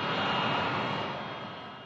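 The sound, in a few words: Boeing 787 Dreamliner jet taxiing in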